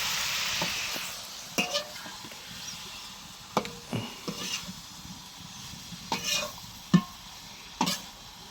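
Greens stirred in a pan, spatula scrapes and clatters landing in irregular bursts over a steady soft sizzle, with no talking.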